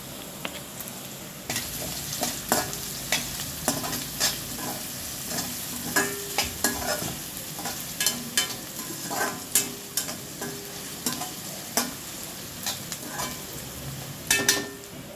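Garlic, ginger and green chili frying in a pan with chopped onion, a steady sizzle broken by frequent sharp clinks and scrapes of a spoon stirring against the metal, close and alone.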